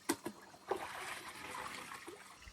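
Water poured from a pot in a few small, quiet splashes and trickles, close and brief, with no one speaking.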